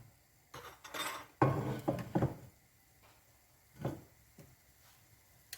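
A serving dish is fetched and handled in a home kitchen where potatoes, onions and eggs are being cooked, with clinks of crockery and cutlery and a cluster of knocks and rattles, then a quieter clatter later.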